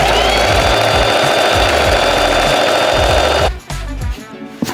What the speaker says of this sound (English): Come with me on a sewing session.